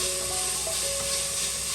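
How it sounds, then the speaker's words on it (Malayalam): Carrot, onion, capsicum, coriander, ginger and garlic sizzling in ghee in a pan, a steady soft frying hiss with faint stirring, fairly quiet and continuous. "കൂടെ തന്നെ ബാക്കിയുള്ള ക്യാപ്സിക്കം, പിന്നെ മല്ലിയില എന്നിവ കൂടെ ചേർത്തിട്ട് എല്ലാം കൂടി നമുക്ക് നന്നായിട്ടൊന്ന് വഴറ്റിയെടുക്കാം"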